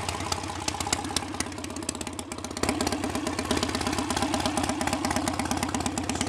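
A BSA A65 Hornet motorcycle engine, 10.5:1 compression, idles steadily with a fast, lumpy tick-over and mechanical clatter, close and continuous, slightly louder after a brief dip midway.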